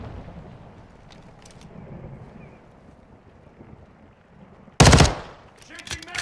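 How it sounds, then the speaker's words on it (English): A fully automatic pistol in the game Warzone fires one short, sharp, loud burst that cuts through a quiet, breezy background before fading into faint ambient noise. "Oh, this is a fully automatic pistol."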